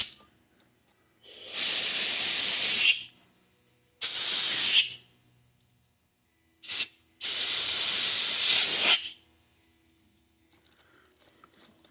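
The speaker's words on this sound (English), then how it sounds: "We got the compressor right here." Compressed air from an air compressor blows in three long, loud bursts with a short puff between them, hissing strongly, while a Champion generator is being repaired; no one speaks.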